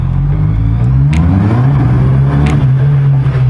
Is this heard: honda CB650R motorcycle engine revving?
yes